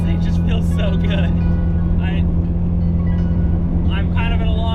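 A Honda Civic EG with a swapped-in B18C engine drives in first gear, its steady engine drone constant and close throughout while a voice talks over it.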